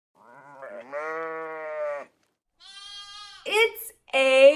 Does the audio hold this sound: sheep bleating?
yes